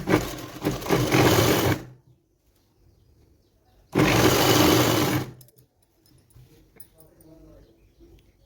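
Sewing machine stitching a six-panel petticoat, with two loud, steady whirring runs of about two seconds and a second and a half, separated by quiet pauses and faint handling sounds.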